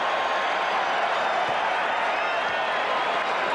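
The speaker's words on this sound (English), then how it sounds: "Gets his first point and gets a cheer from the crowd" A basketball arena crowd at a 1997 Lakers at Bulls NBA game in Chicago roars with cheering and applause in a dense, sustained wash of noise, with a commentator talking underneath.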